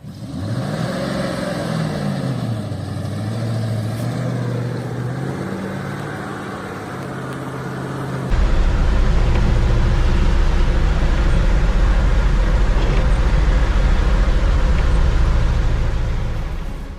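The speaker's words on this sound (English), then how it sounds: "we'll also give the Gaz 53 a chance to speak to you, our dear viewers, through the sound of its engine" Soviet GAZ-53 truck engine running, first idling with pitch rising and falling through revs, then roaring louder and fuller as it pulls away, close and alone.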